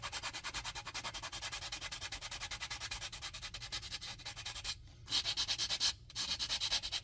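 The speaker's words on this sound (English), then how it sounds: "do some contour sanding in a different direction there" Sandpaper rubs back and forth over the wooden frames and transom of a Muscongus Bay lobster smack model, a steady rapid scratching rhythm close up, with two brief pauses before it resumes.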